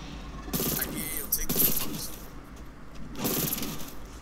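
Bursts of gunfire ring out in Cold War Zombies on the Firebase Z map, with three separate rapid volleys spaced about a second apart, loud and close, and a voice speaking between them.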